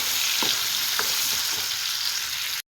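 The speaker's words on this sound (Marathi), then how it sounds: "वांगे चांगले तेलामध्ये फ्राय करून घेणार आहोत" Eggplant pieces fry in hot oil for a spicy village-style masala dish, giving a steady, loud sizzle. A few soft stirring scrapes sound under it, and the sizzle cuts off sharply near the end.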